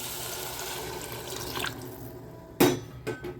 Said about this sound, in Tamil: இந்த பாருங்கள் மூணு டம்ளர் வந்துட்டு தண்ணி ஊற்றுறேன்